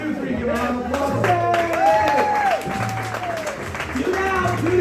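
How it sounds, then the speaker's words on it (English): Studio audience applause and cheering rise during a game show, with lively crowd voices, whoops and music-like tones layered over steady clapping that stays loud throughout. "Give a round of applause."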